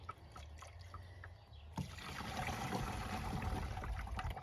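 Liquid poured into a jar while mixing a spray solution for strawberry plants, a steady trickling splash that starts abruptly and runs on evenly at close range, with no talk.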